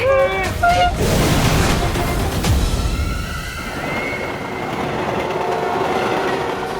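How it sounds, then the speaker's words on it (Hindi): Two trains rumble along the same track, a loud rolling clatter with sharp horn blasts at the start, then a sustained lower drone and faint tonal whine as the noise fades slightly. "दोनों ट्रेन एक ही ट्रैक पे चल रही है"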